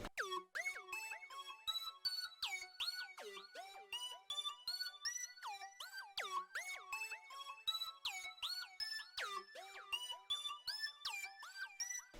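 Dry electronic music track with no reverb or EQ, made of bright repeating synth stabs with sharp downward pitch sweeps in a quick looping pattern, thin in the lows and loud throughout.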